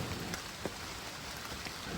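Steady rain falls on a wet, slippery mountain forest trail in thick mist, a continuous soft hiss with a few faint louder drops and no voices.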